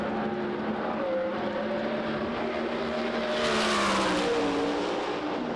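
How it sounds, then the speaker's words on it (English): A USAC Silver Crown race car running on the Springfield Mile dirt oval, its engine a steady loud roar that rises in pitch as it accelerates, heard continuously from a moderate distance with no talk. "Car 53 hits the racetrack."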